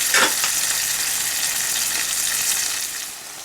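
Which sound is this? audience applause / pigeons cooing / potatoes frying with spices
potatoes frying with spices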